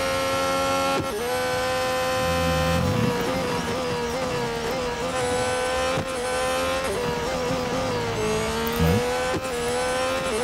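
Ferrari race car engines in the Real Racing 3 game, a steady loud high-pitched engine drone with harmonic whine throughout, shifting pitch as gears change, continuous and close.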